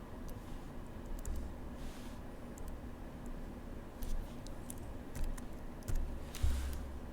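Soft, rapid clicks of a computer keyboard come in short bursts while a setting name is typed, over a steady low room hum.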